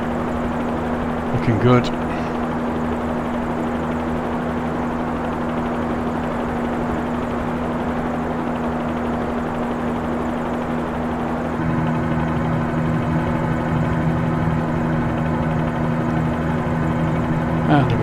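A helicopter in Microsoft Flight Simulator 2020 flying over the coast toward Key West, with a steady rotor and engine drone that continues the whole time, and someone briefly speaking over it.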